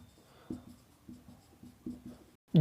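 Chalk or marker writing a definition on a board in a physics classroom, a series of short scratchy strokes in uneven rhythm, close and fairly quiet, ending with a louder knock.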